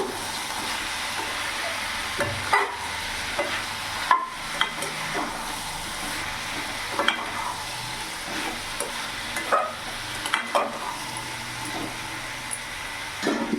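Squash cooks with ground cumin and chili powder in a pan, stirred repeatedly with distinct spoon scrapes and clanks over a soft steady sizzle, close up and without talk.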